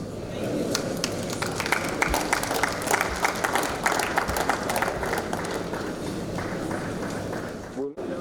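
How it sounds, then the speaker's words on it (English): A crowd at an annual assembly of registered quantity surveyors applauds steadily for several seconds, a dense close wash of clapping with a voice carrying over it, before it breaks off abruptly. "please a round of applause for the professional registered quantity surveyor QS Ali Abubakar Bashir"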